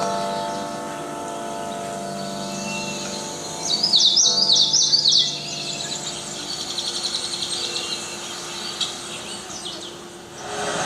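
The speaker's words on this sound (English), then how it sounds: "just listen to the birds, listen to the animals that live around it." Birds chirp and trill outdoors by the Mississippi River, one bright warbling burst standing out amid softer calls, over a steady low ambient hum.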